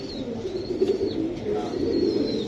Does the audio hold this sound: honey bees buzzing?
no